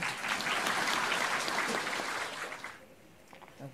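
Applause from an audience at a Buddhist sutra lecture, a dense burst of many hands clapping together for a few seconds before it fades.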